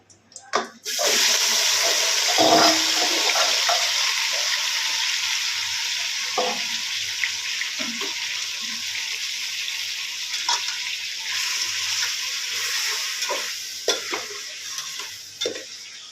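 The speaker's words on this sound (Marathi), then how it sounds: "आता तेल पण तापलं आहे मस्त. आता याच्यामध्ये आपली ही भाजी ॲड करायची आहे." Chopped vegetables hit hot oil in a pan while cooking chicken biryani, bursting into a steady, loud sizzle that fades gradually over many seconds, with occasional stirring clinks on top.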